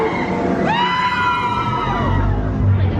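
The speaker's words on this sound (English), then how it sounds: "everyone who's screaming on it is screams of joy and not fear" Riders on the Hagrid's Magical Creatures Motorbike Adventure coaster at Universal let out a single rising, joyful scream heard from the queue, with crowd murmur and rumble underneath.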